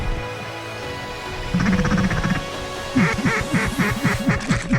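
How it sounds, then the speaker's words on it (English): Ducks quack loudly and close by in a rapid run of repeated harsh calls, getting busier toward the end over a steady background hiss, heard in a wild-game hunting setting. "Let's kill some ducks."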